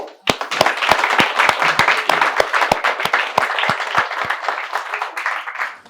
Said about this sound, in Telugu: ఒకసారి మీరు చప్పట్లు కొట్టుకోండి